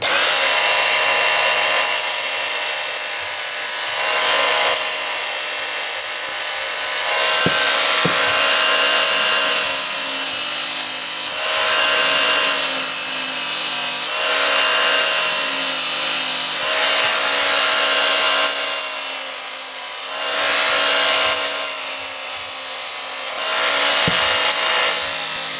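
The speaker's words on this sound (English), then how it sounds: "Now notice the part that I'm using to sharpen the tomahawk and the garden tools" A Work Sharp tool and knife sharpener grinding the edges of a tomahawk and garden tools, a steady loud abrasive whir broken into repeated passes every few seconds, with no talking.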